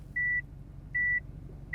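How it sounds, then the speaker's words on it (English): A Subaru Impreza STI Type 25's seatbelt warning chimes in three evenly spaced, high electronic beeps over a low engine hum. "What's it beeping at me for? Seatbelt."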